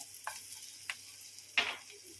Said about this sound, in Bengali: বাটারটা মেল্ট হয়ে এলে আমি এর মধ্যে এবার দিয়ে দেবো যেই রসুনগুলি আমি কুচি করে রেখেছিলাম